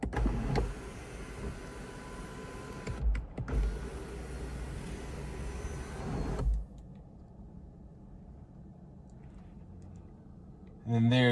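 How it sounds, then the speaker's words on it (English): The power sunroof of a 2020 Lincoln MKZ Hybrid runs with a steady electric motor whir inside the cabin for about six seconds, then stops with a click, leaving a quiet interior and a short thump at the end. "And then you've got this little sunroof here."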